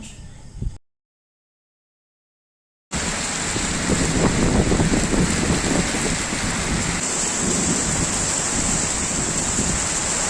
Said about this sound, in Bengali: কেমন বৃষ্টি রয়ে গেল